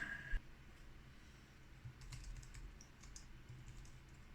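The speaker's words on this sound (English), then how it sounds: "Let me try to type something and see if it works." Typing on an HP 975 dual-mode wireless computer keyboard, a quiet run of uneven key clicks at close range after a brief soft knock.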